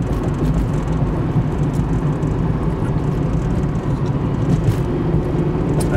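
A 1985 Toyota Supra accelerating, heard from inside the cabin as a steady, loud low engine drone with road rumble, continuous with no clear shifts.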